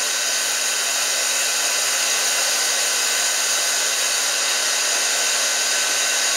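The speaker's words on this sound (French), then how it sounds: "pendant le temps où on se prépare avec la machine pour l'extraction" A mattress cleaning extraction machine runs as a loud, steady, unbroken whine and hiss, close by with no change in pitch or level and no talking.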